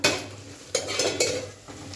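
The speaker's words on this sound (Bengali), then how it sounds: "এখানে ভেন্ডি ভাজা হচ্ছে" Okra (bhindi) frying with turmeric in a home kitchen pan, with a soft sizzle under a few sharp scraping knocks of a spatula being stirred against the pan, close and fairly quiet.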